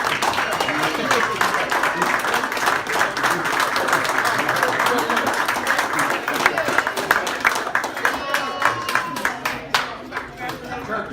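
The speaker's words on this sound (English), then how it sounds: "Give them a round of applause." A boxing gym ceremony crowd gives a round of applause: dense, steady clapping from many hands that carries on for about ten seconds and thins into scattered claps near the end, with faint voices underneath.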